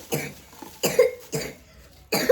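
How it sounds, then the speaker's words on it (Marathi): A sick girl coughs in four separate harsh bursts spaced across a couple of seconds, close and fairly loud in a quiet room. "किती खोकलती बघा"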